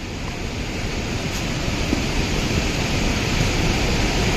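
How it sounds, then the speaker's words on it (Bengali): Water rushes steadily nearby, heard from a road during a motorbike ride between Haldia and Keonjhar, as a loud, unbroken broadband roar with no voices. "শব্দ তো শোনা যাচ্ছে জলের"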